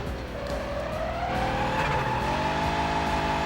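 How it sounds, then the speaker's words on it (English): A car drifting in the video game Road Rage 3, engine revving loudly with a rising tire squeal and skid sustained over several seconds, close and without talk. "Now let's try and drift."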